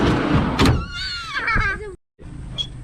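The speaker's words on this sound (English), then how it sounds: "the much nicer looking drawer that actually slides nicely still" A storage drawer in the rear setup of a Mitsubishi Triton ute slides along its runners with a squeaky, rubbing glide and a couple of knocks, then a brief silence and a quieter rattle.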